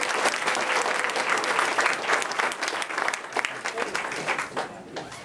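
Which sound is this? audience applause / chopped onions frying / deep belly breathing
audience applause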